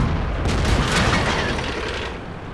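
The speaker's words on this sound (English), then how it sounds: "Now one more shot is gone." Tank cannon fire in a tank battle video game: a single heavy boom that rolls into a long, loud rumbling tail and slowly fades.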